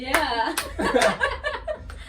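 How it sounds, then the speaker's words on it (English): Students in a classroom clap during a counting game, giving a few scattered sharp claps mixed with laughter and chatter, close and lively. "Students are like clapping."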